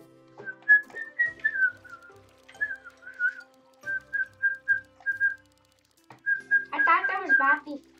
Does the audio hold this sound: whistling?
yes